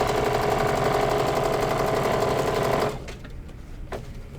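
An embroidery sewing machine stitches out a design on a Kimberbell tote and casserole carrier project, a steady fast mechanical whirr that runs loud for about three seconds and then stops, leaving faint room noise and a couple of light clicks.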